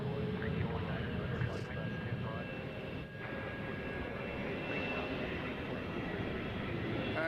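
A large airliner rolls and rumbles near the runway at Nashville International Airport, a steady, loud engine roar filling the whole stretch with constant broad noise and no clear start or end.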